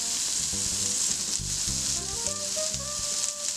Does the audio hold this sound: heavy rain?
no